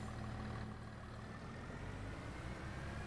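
A tractor engine runs steadily in Farming Simulator 25, a low, constant rumble with a droning hum, quiet and unbroken throughout.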